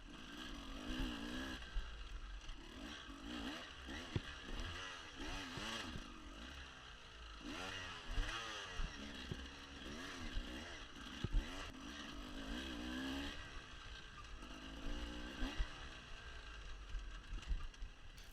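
A dirt bike rides a dry wooded hare scramble track, its engine buzzing and revving up and down in quick surges, with gear and chassis rattles over the terrain, fairly faint and steady throughout.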